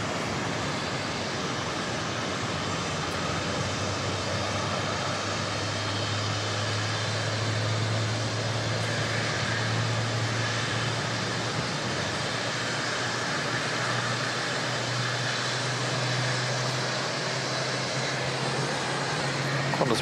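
Qantas 151 arriving at Auckland from Melbourne makes a sustained, moderately loud jet rumble with a low steady drone underneath, holding fairly constant for about twenty seconds without any voices.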